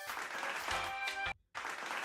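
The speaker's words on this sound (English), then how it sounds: "Hey, chat, clap it up for George." Applause plays for a guest named George on a live sports talk stream. A fairly quiet wash of clapping and cheering runs with a tonal layer mixed in, then drops out briefly before resuming.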